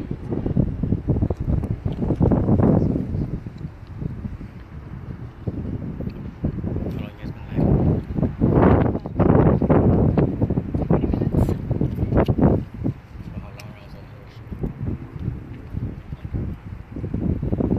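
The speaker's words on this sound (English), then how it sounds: "It's quite windy today." Strong gusty wind buffets the microphone in rough, low rumbling bursts, swelling and easing, with talk faintly in the mix.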